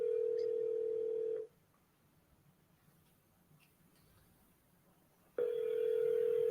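Outgoing phone call ringback: a loud steady electronic ring tone lasting over a second, a pause of about four seconds of near silence, then the tone resumes, heard alone without talk.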